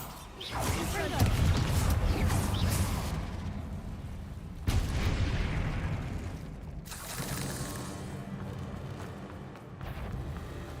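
Confringo fire spells explode in rapid combat against spiders in Hogwarts Legacy. Booming, whooshing blasts and crashes come in several loud surges, with a heavy impact midway through.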